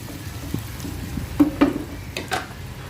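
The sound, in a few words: stirring spicy buttered garlic shrimp frying in pan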